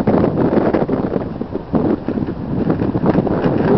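Gusty wind blows outdoors and buffets the microphone in a continuous rough roar that swells and dips over a few seconds.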